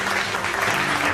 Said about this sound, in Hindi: उनका तालियों से स्वागत कीजिए